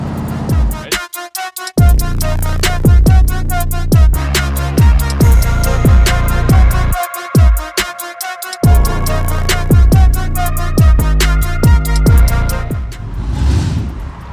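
A modified, built-up Corvette C3 V8 runs loud and close, revving and crackling with a string of sharp backfire pops and bangs between throttle blips.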